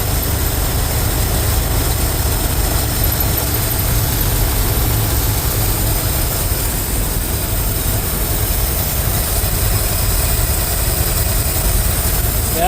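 Ford F350 dump truck engine idling slightly high, a loud, steady, close rumble that drones on without a break and with no talk.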